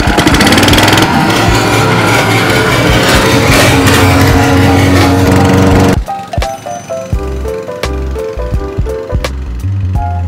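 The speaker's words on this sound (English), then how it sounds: "Gotta mow the yard." A lawn mower cuts a yard with a loud, steady engine roar for about six seconds. Then it drops to quieter, irregular knocks and clatter.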